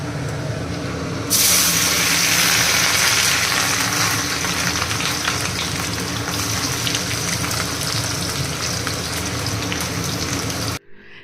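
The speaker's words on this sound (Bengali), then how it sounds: "এখন এই যে এগুলো সব এখন ভাজাভুজি করে নেবো" Food fries in a pan with a loud, steady sizzling hiss that starts after about a second, runs unbroken and close, then cuts off abruptly at the end.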